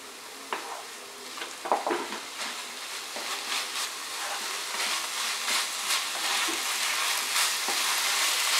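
Chicken filling fries in a pan with a soft sizzle that swells from faint to fuller, broken by scattered scrapes and taps of stirring, with no voices.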